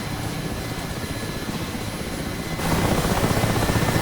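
Steady rotor thrum of a Mi-8 helicopter in flight in the DCS flight simulator, growing louder and denser partway through, with no voices.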